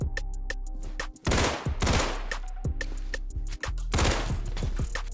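Beretta pistol fire in the Roblox-style game Criminality, a quick run of sharp single shots ticking out in steady rhythm, with two louder, longer blasts and a muffled thump between them.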